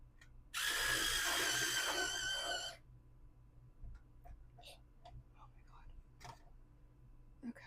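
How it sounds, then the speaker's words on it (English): An electric pencil sharpener grinds a pencil in one loud, steady buzzing burst of about two seconds, followed by faint handling sounds and quiet background noise. "I don't think I like this electric sharpener"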